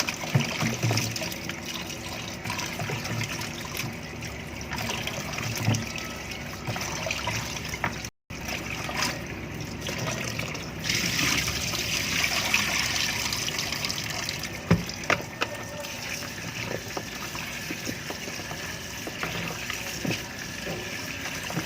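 Tap water runs steadily while food, likely bony meat for a soup, is washed by hand, a continuous trickling and splashing stream close by with brief interruptions and no talk.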